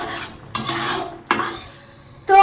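Ghugni stirred in a pot with a little coriander leaf added, sharp scraping sweeps of a spoon against the pot at intervals, each followed by a soft sizzle, loud and close.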